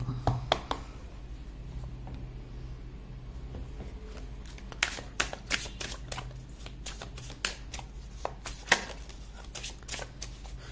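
Tarot cards shuffled and pulled from the deck for clarifiers: a run of quick, crisp riffling snaps and flicks, close and fairly quiet, over a low steady room hum.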